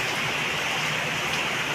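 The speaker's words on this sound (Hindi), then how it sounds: "बहुत ज़ोर की बारिश हो रही है, बहुत ज़ोर की।" Heavy rain pouring down at night, a dense, unbroken hiss of drops hitting surfaces, loud and steady with no voices.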